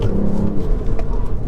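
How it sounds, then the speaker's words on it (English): A Stage 1 remapped Ford Fiesta ST pulls hard out of a corner, its engine giving a loud, close, steady low drone with road rumble for a brief moment, no talk. "That diff coming out of corners is wonderful."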